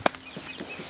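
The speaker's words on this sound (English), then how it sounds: "We got some chickens over there." A few short, soft clucks from chickens kept on a rural Philippine homestead, heard at a modest distance after a brief sharp knock, with no talk.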